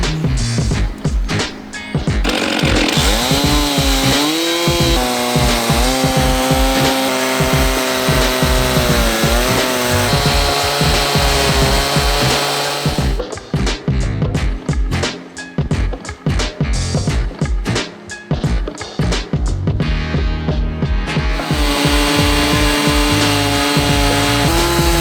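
A chainsaw driving an Alaskan mill rip-cuts timber into slabs, the engine roaring loud and close almost continuously, pitch wavering under load, with brief choppy revving spells midway through.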